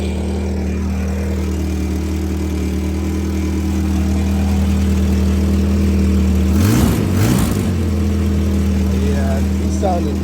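A 1978 Toyota Corona engine idles steadily after a new fuel pump is fitted, a continuous low hum with one brief rev around the middle, while people talk over it.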